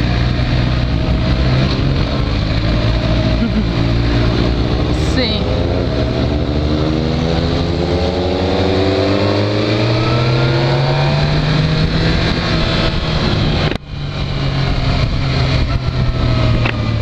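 Yamaha XJ6 motorcycle engine revving up through rising pitch sweeps, loud and close, sustained throughout with a brief dip near the end.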